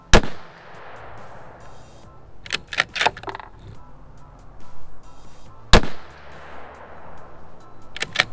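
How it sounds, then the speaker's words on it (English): Rifle fire at an outdoor shooting range, with a few sharp, loud cracks spaced seconds apart, some followed by brief clattering and a trailing echo in between. "Oh wow, I really pulled that last shot."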